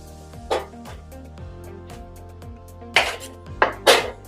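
Potatoes being cut into fries with a knife on a board, heard as a few sharp chopping knocks, close and clear, with a steady low hum running underneath.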